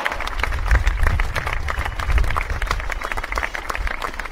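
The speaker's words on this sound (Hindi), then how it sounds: "जोरदार तालियों से इनका स्वागत किया जाए" An audience on a comedy talk show claps to welcome a guest, a short burst of dense, loud applause with some low thumping underneath.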